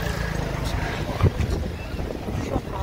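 Strong wind buffets the microphone at a beach in Digha, a steady loud roar with gusty rumbling throughout and no clear speech on top.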